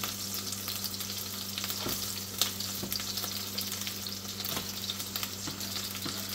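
Eggs frying in a pan as twister or tornado eggs, giving a steady close sizzle and crackle with scattered pops throughout and no talking.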